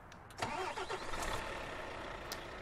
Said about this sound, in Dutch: De motor natuurlijk starten, want anders kom je nergens.